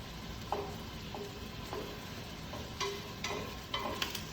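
Garlic and onions fry in a pot for a pasta sauce, giving a steady close sizzle with a few soft clinks and stirring scrapes scattered through.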